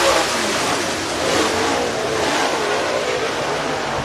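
Race cars accelerating off the start of a heat race at Cherokee Speedway make a dense, sustained roar of many engines together, loud and continuous.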